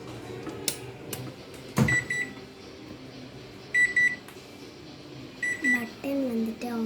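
A home microwave oven gives a few short electronic beeps as its buttons are pressed to switch it on, then hums along steadily while a person talks nearby.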